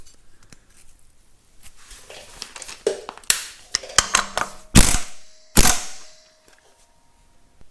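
A ratchet clicks in quick bursts while tightening the crank pulley nut on a Farmall tractor engine, with scattered metallic clicks building to several loud, sharp snaps near the end, close and with no talk.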